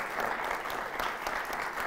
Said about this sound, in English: Lawson led the applause for you